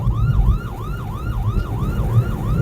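Ambulance siren wailing in a steady, repeating rise-and-fall cycle from a moving ambulance on a busy road, loud and close, with traffic rumble underneath and no voices.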